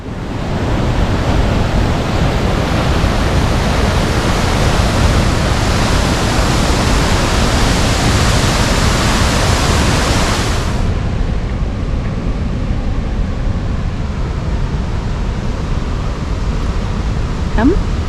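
Crescent Falls, a 90-foot waterfall, roars as a loud, steady wash of broadband noise that dominates the first ten seconds before becoming softer and more distant, with faint wind.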